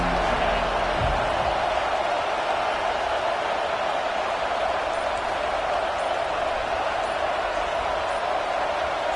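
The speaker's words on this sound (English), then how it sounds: "This crowd trying to make life miserable for this offense" A football stadium crowd roars in a loud, continuous, even wash of noise that runs unbroken throughout.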